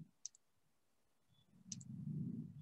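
A computer mouse clicking, two quick double clicks, crisp and close, with a low rumble of background noise swelling near the end and no talk.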